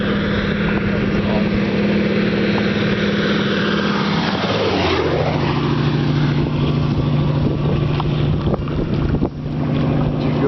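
Boat engine exhaust rumbles on Moraine Creek, Alaska, a loud, steady low drone mixed with wind noise, its pitch sweeping down midway as it passes close by.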